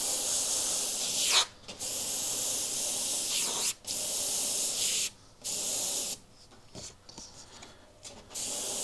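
Airbrush spray hissing in bursts through a moving template onto a painted skull, steady hiss broken by several short pauses, close and fairly loud.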